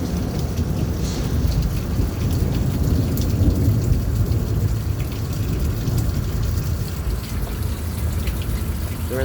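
Heavy rain pours steadily through a night thunderstorm, with low thunder rumbling throughout, dense and close without any talking.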